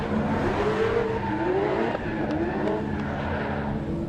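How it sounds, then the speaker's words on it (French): BMW 1 Series drift cars launch from the start line in a Pure Drift 2023 race: loud, continuous engine roar with rising revs and tyre squeal, close and dense for the whole stretch. "top départ entre Kevin Josu et Rémi Andrieux, où la BMW va se lancer en tant que leader"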